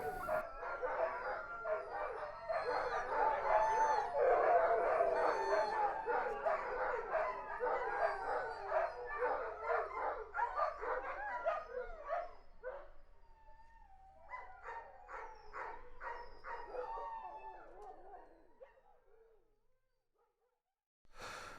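Many sled dogs in a Lapland tourism kennel bark and howl together in a loud, dense chorus that thins into scattered yips and howls before fading out.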